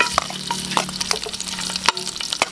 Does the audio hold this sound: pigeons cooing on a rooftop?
no